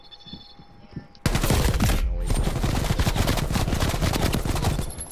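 Heavy automatic gunfire from Call of Duty: Black Ops Cold War bursts in suddenly after a quieter stretch and continues as a loud, rapid, sustained stream of shots to the end.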